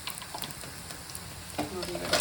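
Curry leaves and onion hitting hot oil for a tempering in a bamboo shoot sambar, giving a steady close sizzle with stirring scrapes and a louder burst of crackling near the end.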